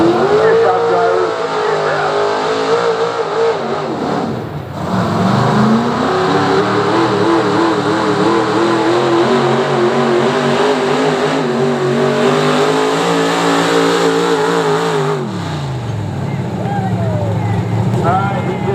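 Pulling truck at a truck and tractor pull, its engine roaring loud and sustained near the track, pitch swinging up and down with revs, dipping briefly twice as the truck struggles to settle.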